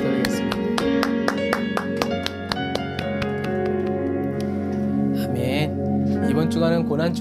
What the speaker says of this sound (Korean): 오늘도 우리에게 은혜 베풀어 주신 하나님께 감사의 박수 드리겠습니다.